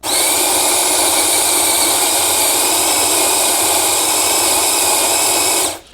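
A coffee machine's new burr set grinds beans with a steady, loud, continuous whirring roar for several seconds, then cuts off abruptly at the end.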